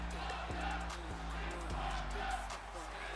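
A wrestling crowd at an IPW event keeps up a steady, dense roar of cheering and chatter, with a few sharp thuds from the ring cutting through the noise.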